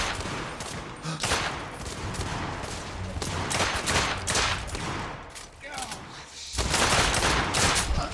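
Loud volleys of gunfire in The Order 1886, including pistol shots, a dense barrage of cracks and booms layered over each other, close and continuous throughout.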